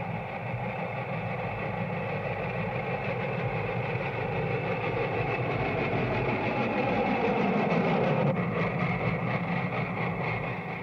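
A Big Boy steam locomotive rolls along the rails in a steady, dense mechanical rumble and clatter, loud and continuous for the whole stretch with no voices.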